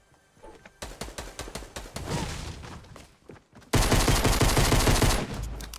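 Gunfire in Fortnite: a string of sharp single shots speeds up into dense, rapid fire, then a louder sustained burst of automatic shooting takes over and fades near the end.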